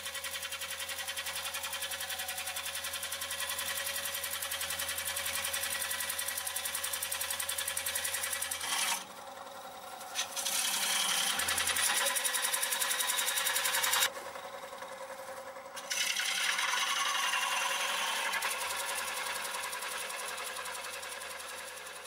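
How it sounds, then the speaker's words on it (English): Wood lathe coring a bowl with a Woodcut Bowlsaver coring tool, a steady loud mechanical whir and cutting hum, broken by two short pauses as the blade is withdrawn to clear shavings. "Proceed to make the cut as before, withdrawing the blade frequently to clear shavings until the bowl is ready to break free."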